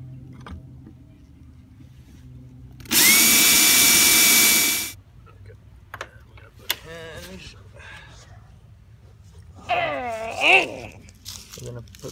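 Power drill boring into wood from a recycled baby crib, a loud, steady whirring burst of about two seconds, followed by quieter clicks, handling noise and people talking nearby.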